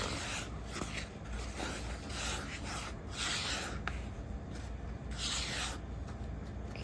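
Crystallized ingredients stirred into a flour mixture, a dry rhythmic rubbing and scraping repeated in short strokes, close and fairly quiet.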